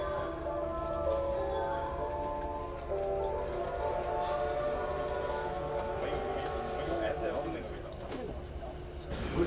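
A melodic chime departure tune plays over Japanese railway station ambience with the rumble of a JR 185 series train and a voice talking over it.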